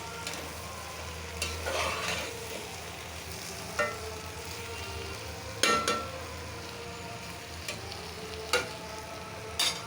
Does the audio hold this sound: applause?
no